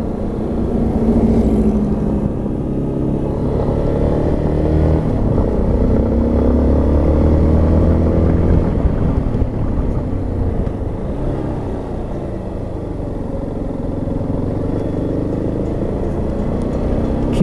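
A Yamaha XTZ Lander 250 trail motorcycle hums steadily while being ridden, its single-cylinder engine droning close and loud with gentle shifts in revs and wind rumble over the bumps.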